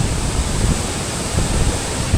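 A waterfall at Sela Pass pounding in strong wind, a loud, unbroken roar of rushing water and gusts buffeting the microphone, with no voices.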